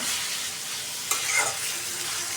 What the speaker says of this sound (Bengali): ভালোভাবে কষাই নিয়ে নিই